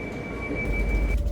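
A low steady rumble of a train rolling on rails, with a thin high whine running through it.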